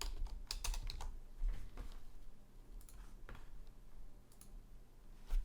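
Computer keyboard typing up close, irregular bursts of light plastic clicks and key taps over a faint background hum, with no talking.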